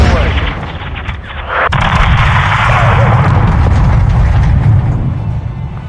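Air strike explosions pound a greenhouse in Modern Warfare II, a sharp blast followed by sustained, loud rumbling and crackling debris that fills the scene, with radio voices talking over it.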